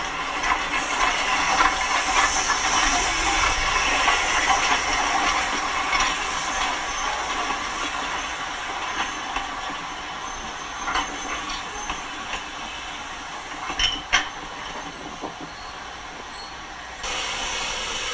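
A train on the Welsh Highland Railway in North Wales rumbles and hisses steadily past close by, with rattling wheels and a few sharp clacks near the end, no voices.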